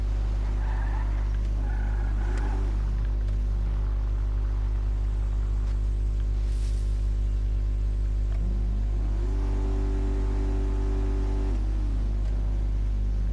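A steady engine drone with two rising revs that hold and fall back, synthetic-sounding like a game car, with no talking.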